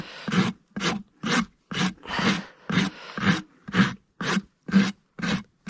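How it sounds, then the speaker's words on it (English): A rasp files a horse's hoof during a barefoot trim in about eleven even, rhythmic strokes, each a loud rough scrape close by, separated by short pauses. "And I'm doing the same on this side, keeping the rasp flat, going down to my mark."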